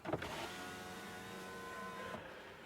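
A 2024 Mercedes-AMG GT 63 coupe's power window motor whirs steadily for a couple of seconds, beginning with a small clunk and ending with a soft stop, close by.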